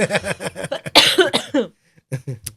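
A rapid series of harsh, close bursts like repeated coughing, followed after a short pause by a few more quieter bursts.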